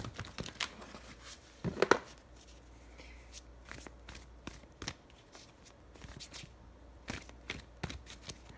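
A deck of tarot cards shuffled up close in a quiet room, giving bursts of crisp riffling and flicking slaps with short pauses between, no talking.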